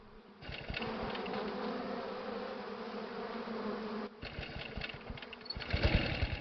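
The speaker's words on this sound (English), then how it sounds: "The swarm has turned. Killer bees are now a very real threat to human life" A swarm of killer bees in the southern United States buzzes steadily and densely with a rich droning hum, breaking off briefly before swelling again, louder and closer, at the end.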